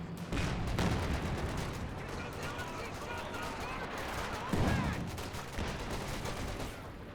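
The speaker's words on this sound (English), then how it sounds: "That was a grenade there." Continuous gunfire and a heavy machine gun rattle through a Company of Heroes 2 battle, with a grenade blast bursting out partway through and a voice talking over the din.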